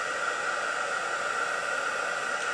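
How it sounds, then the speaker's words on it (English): A handheld heat embossing tool blows hot air onto a punch-art craft piece in a steady, fairly quiet hiss with a tonal whine. The sound holds level and unbroken throughout. "I'm going to take my embossing tool, my heat tool, and emboss that."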